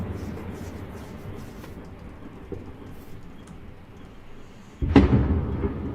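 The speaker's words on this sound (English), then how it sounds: "We hear another artillery explosion." Muffled background crackle, then a single sudden heavy artillery explosion near the end, distant, followed by a lingering rumble, during fighting at a destroyed dam in Ukraine.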